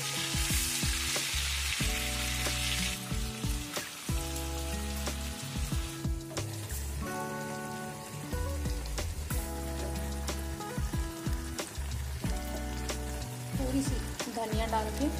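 Fish shallow-fries in oil in a pan, giving a steady, close crackle and sizzle like light rain. Clinks and knocks from cookware come and go over the top, and no one speaks.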